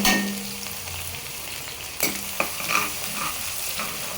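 Garlic fries in oil until crisp, giving a close, continuous hissing sizzle with a couple of sharp clicks from a spoon or pan and no talking.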